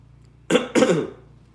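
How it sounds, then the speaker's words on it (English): Someone clears their throat up close in two quick, rough bursts, the second slightly longer, against a quiet background. "Let me clear my throat on this."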